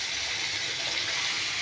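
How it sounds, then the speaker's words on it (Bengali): Water pouring into a bowl, a brief steady rushing stream heard close and without talk. "আর একটু জল দিচ্ছি"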